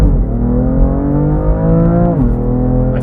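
A stock BMW F80 M3 CS with its dual-clutch transmission hums along at a steady, loud low-pitched drone, the engine note rising slightly and dipping once as load changes.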